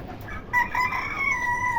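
Chickens on a rooftop, one of them crowing in a single drawn-out cock-a-doodle-doo that rises and holds, fairly near but not loud, over quiet background.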